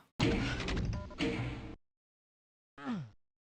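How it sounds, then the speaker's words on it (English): A door opening in the video game Doom II: a loud grinding slide lasts about a second and a half, then comes silence and a short separate tonal effect. "That's going to open a door somewhere that I heard."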